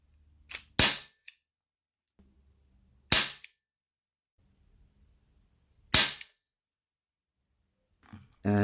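A Colt Python replica airsoft revolver firing three sharp, loud, close shots spaced a few seconds apart, with faint handling clicks between them and no talking.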